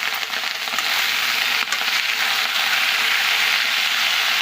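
Spinach and mixed vegetables frying in a pan with salt as they are stirred, a continuous dense sizzle with faint scraping and no talk.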